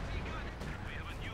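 Artillery barrage in the World War II strategy game Company of Heroes 2, a dense, continuous rumble of distant shell blasts and gunfire rolling steadily through the whole stretch, with a voice talking over it.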